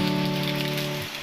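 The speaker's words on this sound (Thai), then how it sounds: "พอฝนตก" Steady rain falls on a day spent in quarantine, a dense, even hiss that runs without a break under a low, constant tonal hum.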